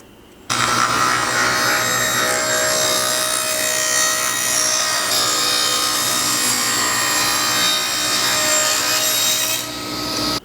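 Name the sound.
bandsaw trimming a wooden runner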